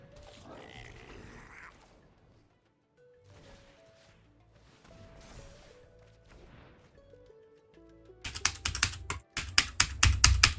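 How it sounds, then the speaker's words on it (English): A computer keyboard spacebar being mashed during a Magic: The Gathering draft, a quick run of loud, rapid clacks at the end after quieter game sounds and soft tapping. "That's me mashing my spacebar into the keyboard."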